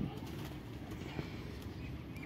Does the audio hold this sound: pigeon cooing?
yes